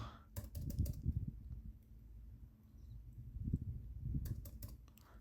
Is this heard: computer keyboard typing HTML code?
yes